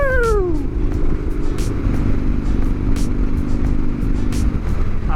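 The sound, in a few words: Harley-Davidson Sportster 1250 motorcycle riding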